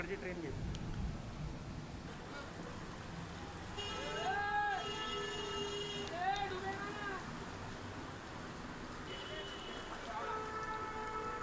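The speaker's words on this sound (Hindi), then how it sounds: "जहां देर रात से मूसलाधार बारिश हो रही है" Heavy monsoon downpour in Mumbai, a steady hiss of rain on streets, with traffic horns and passing vehicles faint beneath a news reader's voice.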